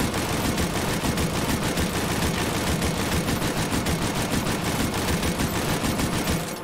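Lewis Gun machine gun firing in the VR game H3VR, a steady loud stream of rapid automatic shots, sustained without pause for several seconds, no talking.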